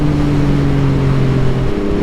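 A Yamaha MT-09 motorcycle with its triple-cylinder CP3 engine hums loudly and close at a steady, even pitch, holding constant revs throughout with a smooth, droning tone.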